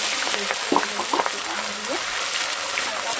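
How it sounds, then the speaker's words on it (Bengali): Panch phoron five-spice, dry red chillies, ginger and green chillies fry in hot oil, a broad steady sizzle with a few sharp crackles and spatters, a voice talking faintly underneath. "এবার এই গরম তেলের মধ্যে আমি দিয়ে দেবো 5 ফোড়ন আর শুকনো লঙ্কা ফোড়নে, আর আদা আর কাঁচা লঙ্কা"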